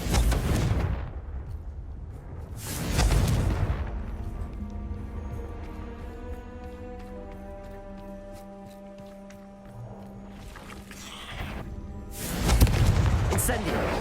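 Confringo spell blasts in Hogwarts Legacy: heavy booming bursts at the start, around three seconds and near the end, with a ringing magical hum between them and a voice calling out during the action.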